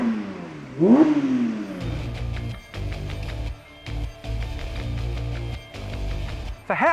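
A 2022 Porsche 911 GT3 of the 992 generation is driven hard on a track, its engine loud and close, with a sharp rising rev followed by a run of repeated surging pulls broken by quick shifts.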